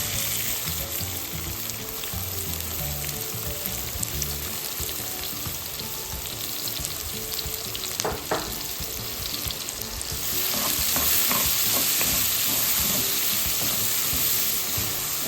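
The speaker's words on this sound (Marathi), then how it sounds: "आता आपण कांदा टाकूया तेल गरम झालेलं आहे" Onion frying in hot oil in a pan, a steady broadband sizzle throughout that grows brighter and louder in the last third, with a few stirring clicks near the middle and no talking.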